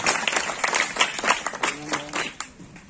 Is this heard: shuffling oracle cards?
no